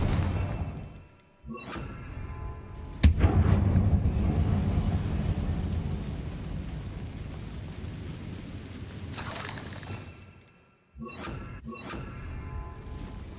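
Confringo blast spell cast in the Hogwarts Legacy video game: a sharp explosive crack followed by a long rumbling, roaring burst that fades out over several seconds, with brief thuds before and after.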